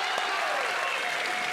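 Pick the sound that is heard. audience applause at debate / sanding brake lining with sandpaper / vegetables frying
audience applause at debate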